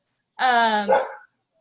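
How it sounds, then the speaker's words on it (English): A single dog barks once near a microphone during an online video meeting, a short sharp bark with a quick second yelp, then quiet. "Whose dog is that?"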